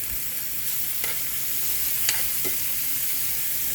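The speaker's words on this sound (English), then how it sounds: "I need to toss these onions right quick" Thin-sliced red onions sautéed in a pan, a steady close sizzle broken by a few quick tossing scrapes and clatters, with no voices.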